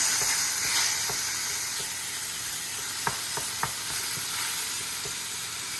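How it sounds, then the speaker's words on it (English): Meat searing in a very hot pan for chili, a loud, steady sizzle heard up close, punctuated by a few light clicks and taps of a utensil, with no talking. "So we're going to take that, sear it off before it's brown."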